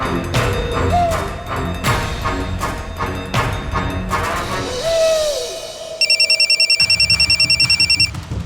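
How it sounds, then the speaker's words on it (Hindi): A telephone rings loudly in a rapid repeating electronic trill near the end, following stretches of background music and tones. "भुवन का फोन है।"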